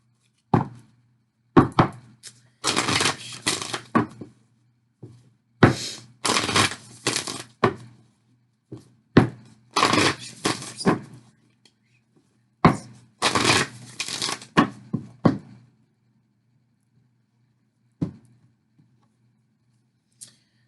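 Tarot love cards being shuffled by hand in repeated bursts of crisp riffling and card slaps, close and fairly loud, with pauses between each shuffle and no talking.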